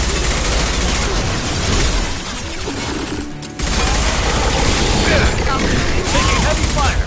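Heavy sustained gunfire from Mass Effect 2 combat, dense overlapping bursts and booms that briefly drop out near the middle before resuming at full intensity.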